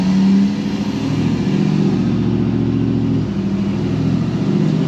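A Ford F250 6.7 pickup truck accelerates on a test drive after a suspension rebuild, its engine holding a steady, loud mid-range drone with a rising rev throughout, close and continuous with no talking.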